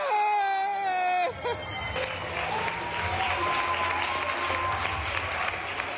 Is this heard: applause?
yes